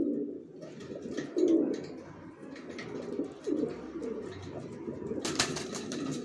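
Racer pigeons cooing in a loft, with soft, low, rolling coos that repeat across the stretch. A brief rustle of wings or movement comes near the end, with no talking.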